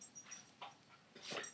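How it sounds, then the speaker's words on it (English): A pet dog moves about somewhere in a home brewing room, giving faint, distant soft yips and whimpery sounds in two brief bursts over a quiet background. "You can hear my dog bouncing around in the background"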